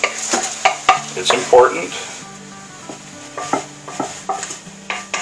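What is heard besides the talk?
food sauteing in butter in a pan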